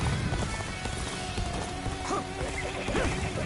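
A horse gallops through a crowded battlefield in the video game Dynasty Warriors: Origins, its rapid hoofbeats and snorts running steadily over a loud, dense mix of clashing combat and crowd noise.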